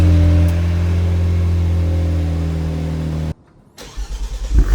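A Genesis G70 fitted with a Borla exhaust idles with a deep steady drone, cuts off abruptly into near silence, then comes back with a series of rising rumbling pulses at the end.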